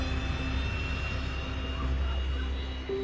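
A jet airplane at take-off thrust gives a steady, droning engine roar that holds throughout with a faint tonal whine, moderately loud and unbroken.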